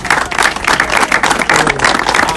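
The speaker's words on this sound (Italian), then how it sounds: "a cui voglio fare un applauso" Brief burst of audience clapping at a presentation for a fireworks art festival in Adelfia, dense, rhythmic applause close by and fairly loud throughout.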